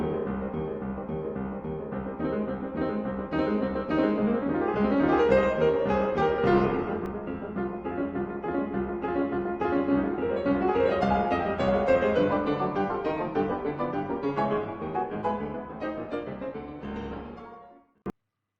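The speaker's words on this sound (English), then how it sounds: "later, in his Cinderella suite, he used the same theme, only a bit faster, and it sounds like this" A lively piano galop theme from Prokofiev's Cinderella suite is played at a brisk tempo, with full chords and a running melody sustained at a steady loudness before stopping abruptly near the end.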